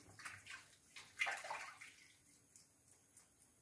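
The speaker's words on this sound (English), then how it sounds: "we're going to start bubbling the methane through the water mixed with washing up liquid here" Methane gas bubbles through water mixed with washing-up liquid in a science lab, a quiet watery gurgling with a few brief louder splashy bursts and no talk.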